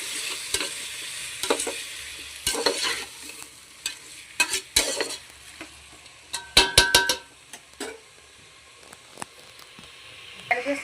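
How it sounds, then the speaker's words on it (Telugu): Onions and tomatoes sizzle in a pan for chicken tahari while a spoon stirs them, with scattered metallic scrapes and taps over a soft, steady frying hiss. "ఉల్లిపాయలు టమాటా కలుపుకోండి."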